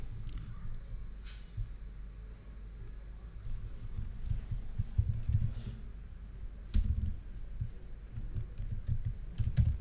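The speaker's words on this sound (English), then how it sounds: "I'm again just starting to type support description here" Keys on a computer keyboard clatter in quiet, uneven bursts of typing, close and soft, with faint low thumps in the background and no talk.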